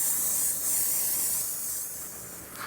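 Airbrush or spray gun laying down orange and red paint for candy-style flames, a steady close hiss that runs unbroken, easing slightly softer toward the end, with no talking.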